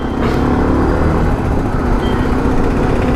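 A modified Yamaha R15 v2 motorcycle at riding speed, its engine droning loud and steady with broadband road and wind rush and no clear break for a gear shift.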